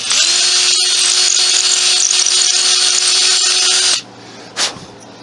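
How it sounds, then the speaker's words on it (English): A faulty power drill about five or six years old whines loudly and steadily for about four seconds, then cuts off, leaving a brief faint noise afterward. "That's the motor on the drill."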